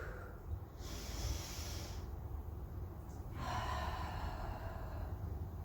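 Forceful breath exhalations during a slow core exercise for waist, belly and back, with the transverse abdominal muscle braced; two long airy whooshes with a pause between, close and fairly loud, no talking.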